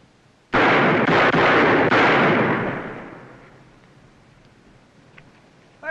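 Gunfire rings out in a western film, a loud burst of several shots in quick succession that rolls into a long echoing decay, then fades to quiet.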